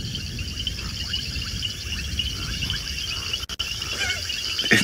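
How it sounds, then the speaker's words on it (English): Toads and reed frogs call at night by frog ponds on an African safari, a dense continuous chorus of high trilling and chirping with a brief dropout near the end. "Serenaded by toads, casinas, reed frogs."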